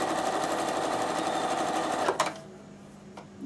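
A Bernina sewing machine stitching rows on felt runs at a steady fast hum, close and loud, then stops abruptly with a couple of clunks, leaving quiet room tone.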